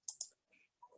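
Mouse clicks in Microsoft Word, a quick close double click followed by softer faint clicks, quiet and isolated.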